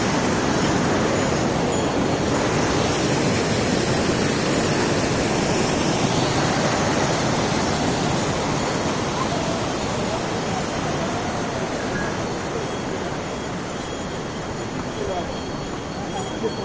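Waterfalls along the mountain trek route to Kedarnath roar as a steady, dense broadband rush of falling water, loud and unbroken throughout, with no voices.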